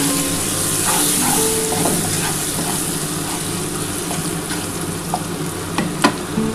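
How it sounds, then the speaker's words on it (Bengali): Chopped tomato is added to fried onions in a pan while cooking a spicy tilapia fish curry. The oil gives a steady sizzle close by, with a few light stirring clicks and no talk. "এবার আমি যে একটা টমেটো কুচে রেখেছিলাম এটা দিয়ে দিচ্ছি।"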